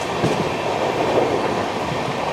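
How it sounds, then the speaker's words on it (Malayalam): A local train runs past on the slow line, a steady rumble with a rhythmic clickety-clack of wheels, moderately close and continuous without any talk. "നമ്മുടെ ലോക്കൽ ട്രെയിൻ സ്ലോ ലൈൻ അപ്പുറത്ത് കൂടെ പോകുന്ന കാണാൻ ഉണ്ടാവും"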